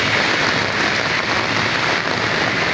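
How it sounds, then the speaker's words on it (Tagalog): Heavy rain pours down in Makati City, a loud, dense, steady hiss of drops hitting surfaces, continuous and close with no pauses. "Sobrang lakas ng ulan."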